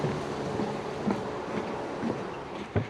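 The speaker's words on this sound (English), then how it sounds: "that's the first train we've seen on a ride out" Train on the main line to London near Penzance, heard from a distance as a steady low rumble with occasional rhythmic clunks of wheels over rail joints, fairly faint and with no talk.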